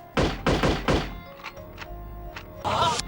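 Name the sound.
sniper gunshot in the video game No One Lives Forever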